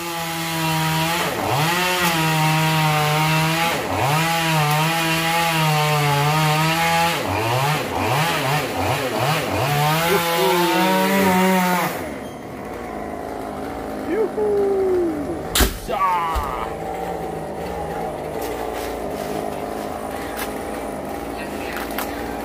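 A chainsaw roars loudly and steadily as it cuts down through a large oil tree (dipterocarp) trunk near ground level, its pitch rising and dipping with the load, then the engine drops to a rough idle.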